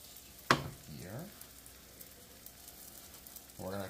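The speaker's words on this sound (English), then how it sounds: "We're going to toast them on both sides." Bread slices are laid into a hot frying pan to toast for a breakfast sandwich, with a sharp clack followed by soft sizzling, faint and close, and a second brief burst of frying near the end.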